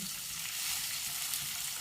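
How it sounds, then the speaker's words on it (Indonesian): Water coming to a boil in a pot for cooking beef, giving a steady, close bubbling hiss that runs unbroken throughout with no voices. "Ini kayaknya sudah mendidih ya teman-teman."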